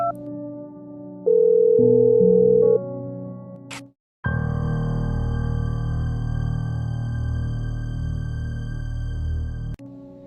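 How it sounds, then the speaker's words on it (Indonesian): Continuous steady telephone dial tone from a lifted handset, heard clearly after a short electronic beep sequence and brief silence, lasting several seconds with no speech. "Dia tersadar dan langsung menyambar gagang telepon untuk menghubungi polisi."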